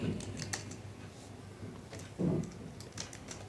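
Computer keyboard keys clatter in short bursts of clicks, typing code, close but fairly quiet over a low room hum, with a brief thud partway through.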